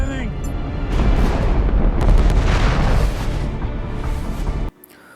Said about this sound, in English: Well, that's a lot of missiles.